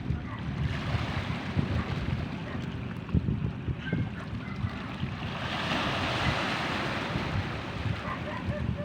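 Sea waves washing onto a beach, a steady close rush of surf with gusts of wind buffeting the microphone.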